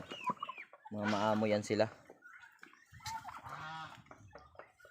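Turkeys on a farm gobble and cluck in short loud bursts nearby, heard between and under a man's casual speech.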